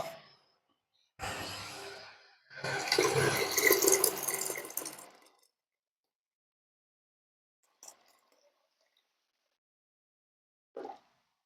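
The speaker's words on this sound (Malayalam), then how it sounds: "നമുക്ക് അതിനകത്തേക്ക് ഒരു രണ്ട് ലിറ്റർ വെള്ളം കൂടി ചേർക്കണം" About two litres of water is poured into passion fruit juice: a short splash, then a longer steady gush lasting a few seconds. After that it is quiet, with a couple of faint clicks.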